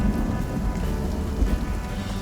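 Steady rain pours with a low rumble of thunder during a stormy spell in the survival video game Icarus, a continuous broad wash with no speech over it.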